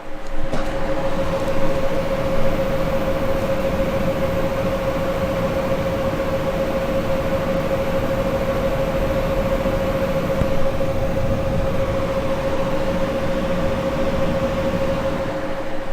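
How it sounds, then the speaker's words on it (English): Graphics card fans spinning at stock speed under Heaven benchmark load, a steady, loud broadband whoosh with a constant whine running throughout, unbroken for the whole stretch and without talk. "with all the fans spinning at stock and Heaven running, let you hear that audio again"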